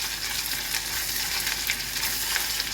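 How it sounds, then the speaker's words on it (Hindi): Ginger garlic paste frying with onions in ghee, a steady close sizzle and crackle that runs evenly throughout with no talking. "और बढ़िया से जो है भून लेंगे अदरक लहसुन के पेस्ट को।"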